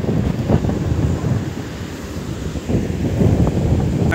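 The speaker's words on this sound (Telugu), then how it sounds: "పెద్ద పెద్ద అలలు." Big sea waves roll onto a beach in Goa in a steady, loud wash of surf, with wind buffeting the microphone throughout.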